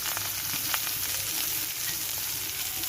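Pounded ginger and garlic fry in a pan for an Assamese fish curry, giving a steady, close sizzle and crackle with light stirring clicks and no voices.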